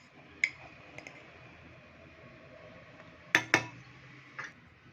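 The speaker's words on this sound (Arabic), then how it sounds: "وغادي نحركو واحد شويه باش ما تكورش لينا النشا" A spoon stirs a milk, oil and starch sauce for a chocolate cake, giving a few sharp, scattered clinks against the pot over a quiet background.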